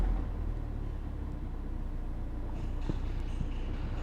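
A Ford Focus RS with all-wheel drive runs in first gear with all four wheels spinning, giving a steady low drivetrain drone with faint mechanical whirring near the end.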